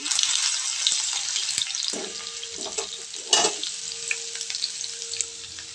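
Crushed garlic sizzles in hot oil with mustard seeds and cumin, a close, steady frying hiss broken by a few scraping stirs of a spoon against the pan.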